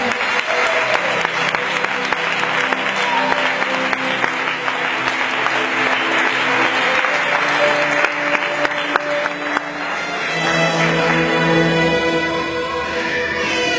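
Loud, sustained applause from a church congregation at an Argentine service fills the whole stretch, a dense wash of clapping with crowd noise and a faint tonal background, swelling slightly near the end.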